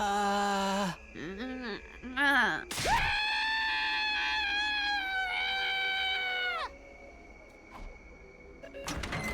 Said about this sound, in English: The moment I touched him, he let out a blood-curdling scream